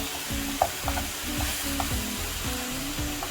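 Mushrooms with chorizo and smoked sausages stirred in a hot pan, a steady sizzle of frying under rhythmic scraping strokes of the spoon, close and clear with no talk.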